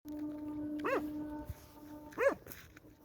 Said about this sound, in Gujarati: કૂતરા બહુ આવી રીતના ભવતા હોય જો ગામમાં